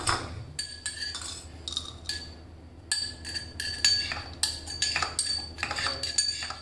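A spoon scoops coarsely ground gram-flour gathiya and drumstick mix into a small bowl, making repeated sharp metallic clinks and scrapes against the dish, with brief quiet gaps between them.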